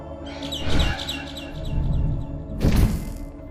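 Bird chirping in the horror game Garten of Banban 6 on mobile: a quick series of bright, repeated tweets rises over low rumbling, with a couple of dull thumps, the last one arriving near the end.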